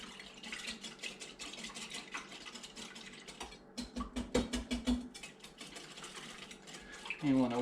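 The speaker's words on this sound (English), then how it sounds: "let's get the beater." An electric beater whirs and rattles through eggs and sugar in a bowl, a steady mechanical drone with uneven clattering bursts midway and a louder rise at the end.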